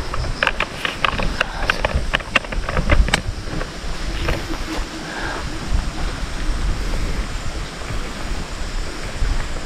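Flowing water below a hiking trail down toward the Curug Papat waterfall in Rejang, Bengkulu, a steady broad rushing roar with wind buffeting the microphone and a few clicks early on.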